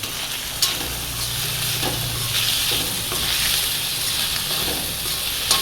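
Chicken salna for parotta being stirred in a hot pan after turmeric powder goes in, giving a continuous close sizzle with scraping stirring strokes and no voices.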